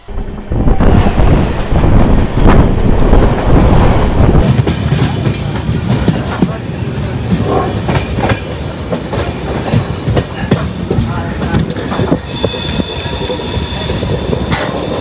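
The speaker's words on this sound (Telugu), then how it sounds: "బెంగళూరు రైల్వే స్టేషన్కి వచ్చేసాను ఢిల్లీ నుండి" A train rumbles close by at Bengaluru railway station with heavy clattering wheels and metallic screeching, accompanied by wind buffeting the microphone.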